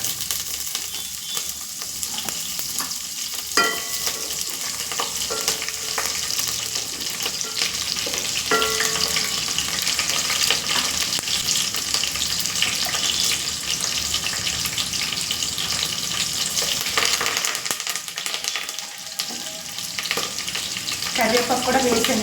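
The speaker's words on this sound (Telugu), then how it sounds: "కరివేపాకు కూడా వేసానండి. బాగా ఫ్రై అవుతుంది." Curry leaves and green chillies frying in hot oil for a chicken fry piece biryani, a dense, steady sizzle that runs unbroken from start to finish with no one talking.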